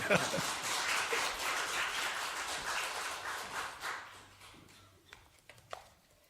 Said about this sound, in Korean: 박수를 치려면 확 쳐주세요